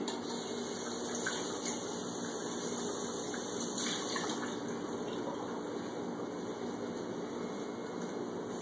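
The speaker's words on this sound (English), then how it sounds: "We actually have to wash cups here because we don't have 100 sitting around" Tap water runs steadily into a sink while cups are washed, a continuous close rushing and splashing with small clinks of handling and no talk throughout.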